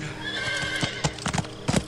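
A horse whinnies in Metal Gear Solid 3, a bright drawn-out neigh followed by a few sharp hoof clops close by.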